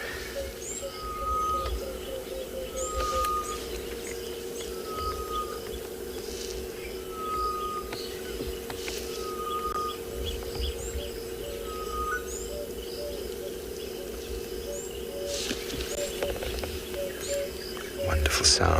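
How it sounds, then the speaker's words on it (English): Outdoor birdsong in South Africa from a grey-headed bush shrike and emerald-spotted wood dove: a repeated whistled call at regular intervals and soft cooing notes over a steady background hum and insect buzz. "Wonderful sounds of the grey-headed bush shrike, the emerald spotted wood dove."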